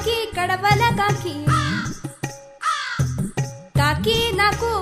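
A crow's caw in an animated Telugu nursery rhyme, performed as loud, repeated, melodic caw-like calls by a singing voice imitating the bird, set against a bouncy musical backing.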